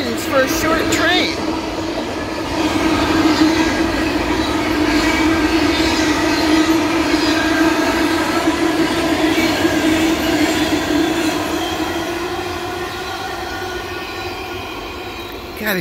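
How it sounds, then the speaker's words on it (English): A short freight train pulled by several engines rumbles steadily past at close range, its low drone and rattling wagons holding at a constant loud level throughout. "Wow, all those engines for a short train."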